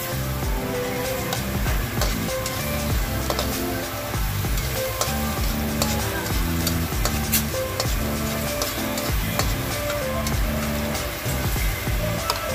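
Garlic sautéing in a hot pan for a mussel dish, giving a steady, dense sizzle and crackle that stays loud and close throughout with occasional stirring and no talking.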